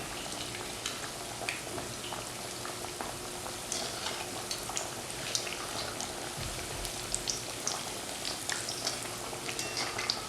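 An egg cutlet in the style of a street-food snack fries in oil over a medium flame, giving a steady, moderate crackling sizzle with scattered pops and the occasional low bump of the pan throughout.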